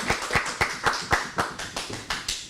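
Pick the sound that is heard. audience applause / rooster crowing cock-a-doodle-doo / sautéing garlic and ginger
audience applause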